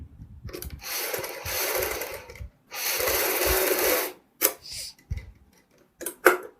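A sewing machine runs a long straight seam on an old embroidered suit, in two sustained whirring bursts of stitching followed by shorter stops and starts, close and fairly loud.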